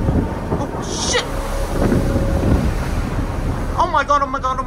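Rough seas and gusting wind at Sydney Heads aboard a crossing ferry, a loud continuous rush of water and wind noise, with a person's voice briefly heard near the end.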